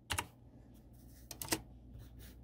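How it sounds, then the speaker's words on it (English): A computer keyboard is typed on in a few quick, sparse clusters of keystrokes, close and fairly quiet, with nobody talking. "you're going to type in Google Earth Pro."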